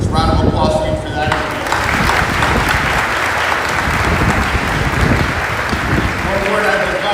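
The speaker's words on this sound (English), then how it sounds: "Let's round of applause for you for that." Applause from an audience at a Miami-Dade County police recruit graduation ceremony, sustained loud clapping that fills the whole stretch, with a voice heard briefly at the start and again near the end.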